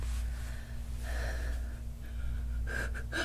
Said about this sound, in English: I'm the one breathing this time around.